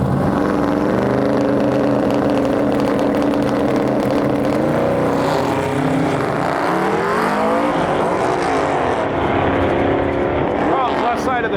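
The Rat Wagon drag race car roars down the track at a drag-and-drive event, a loud sustained engine howl with rising and falling pitch as it accelerates, while an announcer talks over it.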